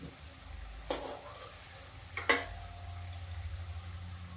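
Mung dal snacks frying in refined oil or desi ghee, a steady soft sizzle with two sharp crackling bursts, fairly quiet and heard alone without talk.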